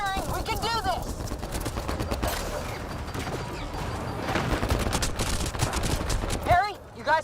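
Rapid, dense gunfire rattles continuously through a firefight in the video game Mass Effect Andromeda, loud and close, with voices talking over the shooting.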